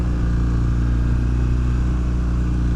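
Kawasaki W800 motorcycle engine pulling steadily uphill during a city ride, a loud, continuous low throbbing drone with even pulses and no talking.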